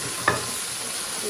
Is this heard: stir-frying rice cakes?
yes